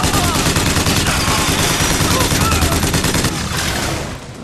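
Sustained rapid gunfire in BioShock Infinite, a dense loud burst of shots that rattles nonstop for several seconds before tapering off near the end.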